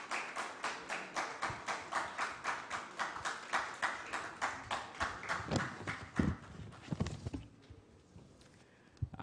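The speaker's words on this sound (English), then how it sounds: "with a round of applause, may we please welcome Mr. Isaiah Boaboatin" An audience at the Broadband Ghana Forum 2017 welcomes a speaker with applause: loud, regular rhythmic clapping in unison for about six seconds, then thinning into a few scattered claps before fading.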